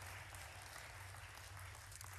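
Faint applause ripples through a large hall at the Detroit Auto Show, a steady distant wash of clapping over a low continuous hum.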